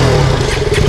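A purple KTM Duke motorcycle engine idles nearby, a steady, loud, rumbling drone with a faint clattering edge, running continuously for the full second.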